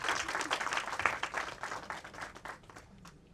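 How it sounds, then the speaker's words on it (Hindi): A live audience claps loudly for two film producers at a Bhojpuri movie first-look event, dense steady applause that thins and fades toward the end. "दोस्तों इन दोनों के लिए एक जोरदार ताली बजाइए"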